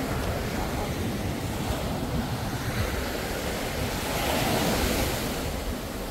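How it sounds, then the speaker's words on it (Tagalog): Rough surf at Puka Beach, Boracay: continuous heavy wash of breaking waves with wind buffeting the microphone, steady and fairly close. "Maganda rin naman yung Puka Beach. Kaya lang mas maalon siya."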